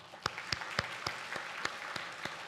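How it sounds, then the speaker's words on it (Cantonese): A church congregation applauds its mothers during a Sunday service, a soft, fairly distant patter of clapping with a few louder, sharper claps standing out at a loose, uneven rhythm. "我一俾啲掌聲我哋當中嘅媽媽啦"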